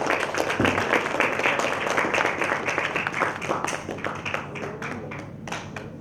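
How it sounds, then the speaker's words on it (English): Audience applause after a performance at a company gala, a dense crowd of hands clapping steadily at moderate volume for several seconds, thinning slightly toward the end. "Please give a big round of applause to Ms. Ovia."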